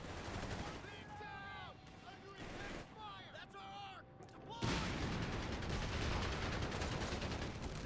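Strafing-run machine-gun fire and explosions in a Company of Heroes 3 multiplayer battle, a dense continuous roar of gunfire bursting loud in the second half after quieter battlefield noise and talking.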